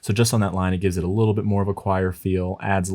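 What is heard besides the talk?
No everyday noise stands out behind the speech.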